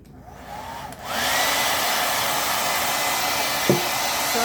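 A handheld hair dryer starts up and runs steadily at close range, a loud continuous blowing roar drying a painted craft surface, with a brief knock near the end.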